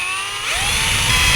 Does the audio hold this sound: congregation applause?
no